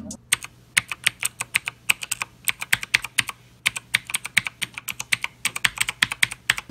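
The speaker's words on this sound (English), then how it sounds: "it's a mechanical keyboard. And what that means is, give this a listen" Crisp mechanical keys clack in quick, uneven bursts of typing, close and clear, with a short pause partway through and no talking.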